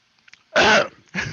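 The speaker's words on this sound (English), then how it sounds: "he coughs a little" A single short cough, close and fairly loud, followed by a second brief throaty burst after a short pause.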